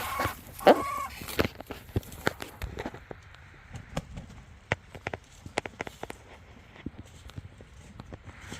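Wyandotte hens cluck and squawk close by in a quiet coop, short scattered calls with one louder squawk near the start and softer intermittent clucks afterward.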